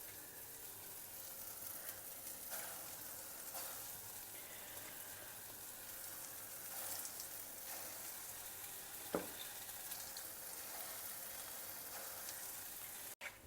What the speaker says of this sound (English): Fry it to a lovely golden brown color.